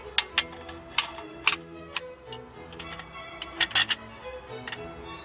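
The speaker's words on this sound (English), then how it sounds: "A ratchet handle." A ratchet handle turning the thread of a Milenco aluminium caravan leveller, giving a run of sharp, close clicks in irregular bursts.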